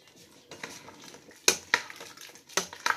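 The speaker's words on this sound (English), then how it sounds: "I'm just going to kind of stir that in" A utensil stirs cream-style corn into a pot of New England style corn chowder, with soft scraping and several sharp clinks against the metal, close and fairly quiet with no talking.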